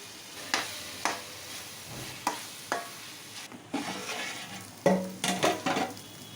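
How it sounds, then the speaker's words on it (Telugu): Green chilli and tomato pieces frying in oil for a Telugu fish curry, with bursts of sizzling and a few stirring strokes and utensil scrapes spread across the clip, moderately close. "కట్ చేసుకున్న టమాటా ముక్కలు కూడా వేయించుకోవాలి ఆయిల్లో."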